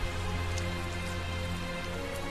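Rain falls steadily in the video game Tales of Zestiria, a dense even patter of drops on surfaces that continues without a break under a low background hum.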